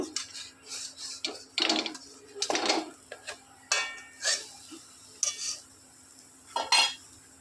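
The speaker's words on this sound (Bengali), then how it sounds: "ডালের বড়াটা এবার আমি উল্টে দেব।" Metal spatula scraping and clinking against a wok as lentil fritters are turned in oil, a series of sharp close scrapes and taps spaced irregularly, with no talk.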